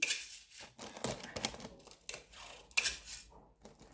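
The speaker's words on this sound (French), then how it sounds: "je vais remettre encore un peu de scotch sur les côtés" Adhesive tape pulled off a roll and pressed onto the sides of a wrapped gift, giving bursts of sharp ripping and crackling that come in irregular strips, close and quiet, with no voices.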